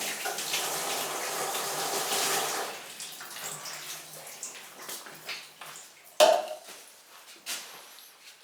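Glazed pottery is rinsed under a running tap, a steady close hiss of water for a few seconds that then turns into intermittent splashes, drips and a sharp knock.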